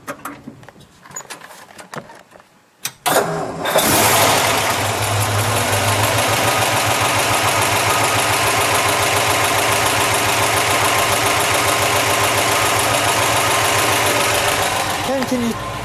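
A 1954 Mercury Monterey convertible engine cranks and catches at about three seconds, then settles into a loud, steady, close-up idle with an even rhythmic pulse that holds to the end; faint talk comes before the start.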